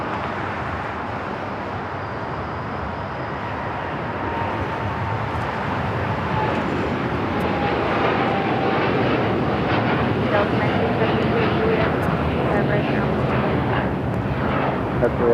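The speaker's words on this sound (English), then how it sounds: "It's flying heading to Hong Kong, United Dreamliner" A United Dreamliner jet bound for Hong Kong flies at LAX, heard as a broad, continuous engine roar that swells slightly and holds steady, with people talking over it.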